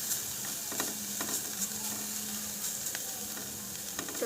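Carrots and beans are stirred and fried in a pan for a vegetable egg soup, making a steady, moderately loud sizzle with faint scraping and clicking from stirring and no speech.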